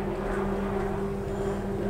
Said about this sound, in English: Got the helicopters flying over the mountain ridge, looking at everybody's stuff